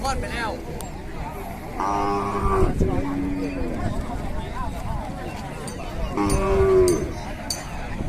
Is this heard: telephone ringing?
no